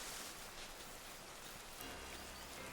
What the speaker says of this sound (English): And Dapple Grove is raining.